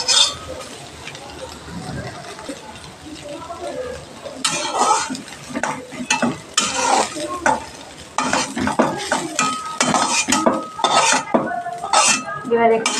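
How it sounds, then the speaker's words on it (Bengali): Soybean chunks fry in a pan as a metal spatula scrapes and clatters against it in quick irregular strokes over a steady sizzle; the stirring grows busier partway through, and no words are spoken. "এইভাবে সয়াবিনটা ভেজে নেব।"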